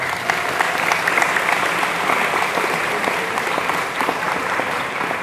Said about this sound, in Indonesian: Nah, tepuk tangan untuk ini.